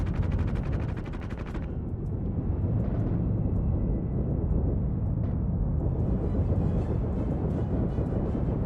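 Aircraft cannon fire in the combat flight game In The Black hammers out in a rapid, heavy burst for under two seconds, followed by a rumbling engine drone with a few scattered thuds and booms.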